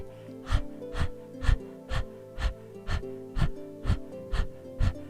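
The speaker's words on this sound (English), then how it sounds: "the easiest way to learn breath of fire is to pant. Go ahead and stick your tongue out and pant." Rapid rhythmic panting with the tongue out for yogic breath of fire, about ten even, close breaths at a steady pace over a faint background drone.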